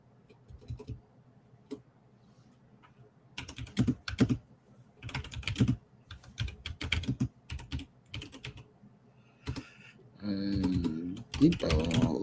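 Keyboard typing mimicking a typewriter in a workshop-building session, bursts of close, rapid key clicks in uneven clusters with pauses between, growing denser toward the end, heard alone without talk.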